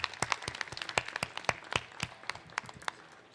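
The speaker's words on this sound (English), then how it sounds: "So please give a round of applause to the all project." Audience applause at a conference stage during ETHDenver 2026, a round of clapping for competing projects; dense, steady hand claps from a crowd with sharper individual claps standing out, fairly close and sustained throughout.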